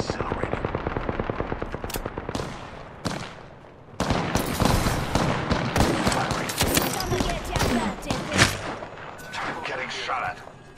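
Rapid automatic gunfire from an Apex Legends match, with dense overlapping bursts and sharp cracks that grow louder and busier midway, close and continuous, with a voice briefly talking underneath.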